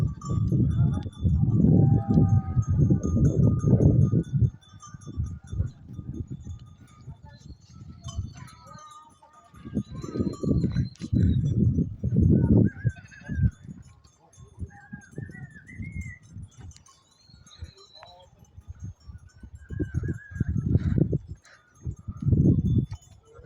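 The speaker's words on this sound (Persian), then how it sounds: "بچه ها این گوسفندا رو میبینید که در حال خوردن آب هستن" Sheep drinking water in an orchard give bleating calls mixed with low, rumbling bursts and shuffling noise, loud and close, with breaks of quieter background. A voice may be talking over them.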